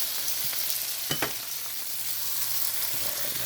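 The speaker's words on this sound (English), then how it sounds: "Flip the burger over, get it a little teriyaki on both sides." An Angus beef burger glazed with teriyaki sizzles steadily in a hot pan, a constant bright crackle with a couple of brief louder spits partway through.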